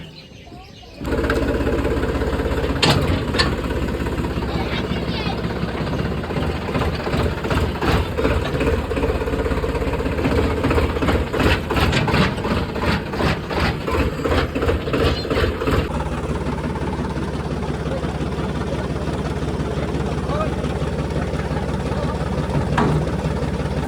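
A tractor engine starts up and then idles steadily close by, a loud, even mechanical drone with a rapid rhythmic ticking that runs throughout, and the tone shifts slightly partway through.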